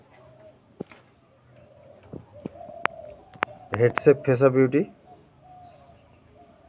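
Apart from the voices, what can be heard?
pigeons cooing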